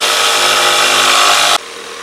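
A power saw cuts through wood for a battery box in a van bed build, a loud, steady buzzing rasp close by for about a second and a half that stops abruptly, leaving a quieter hum.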